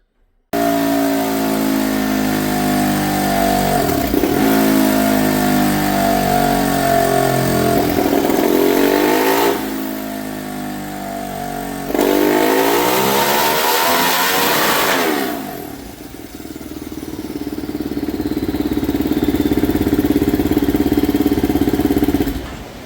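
A turbocharged 2025 GasGas 450FE motorcycle engine screams on a dyno, climbing through sustained high-rpm pulls, dropping off between runs, then winding up again, loud and close.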